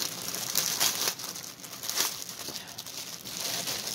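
A plastic bag from a craft supply haul crinkles and rustles close up in repeated bursts of handling, with no talking.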